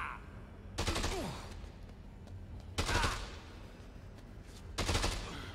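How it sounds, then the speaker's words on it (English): Three separate bursts of rapid automatic gunfire in Dead Rising 2 aimed at the player, evenly spaced a couple of seconds apart over a low background rumble. "He's still shooting me."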